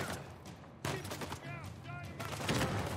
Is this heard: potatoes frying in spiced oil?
no